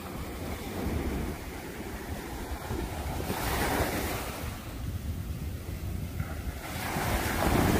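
Ocean waves breaking on a shore in strong wind, loud rushing surf surging and receding in several swells with constant wind buffeting the microphone.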